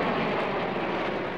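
A plane taking off or landing at an airport makes a steady, loud, broad jet roar that fills the short moment, with no voices.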